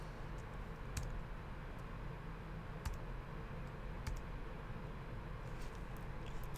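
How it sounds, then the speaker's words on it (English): Keys on a computer keyboard, including the backslash key, click faintly during photo editing. A few isolated sharp taps are spread over a quiet, steady background hum, and nobody speaks. "So if I hit the backslash key on my keyboard,"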